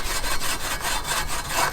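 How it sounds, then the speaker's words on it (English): Wire wool rubbing over a rusty Peugeot 205 GTI spare wheel cage, giving a continuous abrasive scrubbing in quick, even back-and-forth strokes, close and steady. "I'm going to tack it with some bits of wire wool"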